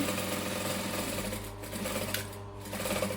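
Sewing machine stitching in a loud, rapid, steady mechanical run that briefly eases in the middle and then picks up again, with no voices.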